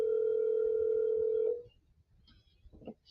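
A telephone rings out during an outgoing call, one long steady electronic tone lasting about a second and a half, then quiet line noise with faint rustling.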